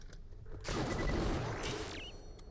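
Gunfire in the video game Borderlands The Pre-Sequel: a loud, dense burst of rapid shots that starts suddenly and rattles on for about two seconds before fading into a brief metallic ring, with no talking.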